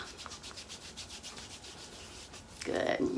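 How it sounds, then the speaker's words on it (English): Hands rubbing and kneading a bare foot during a calf and foot self-massage, a steady close-up swishing friction in repeated strokes, ending in a louder, denser rub. "Rub the foot a little bit."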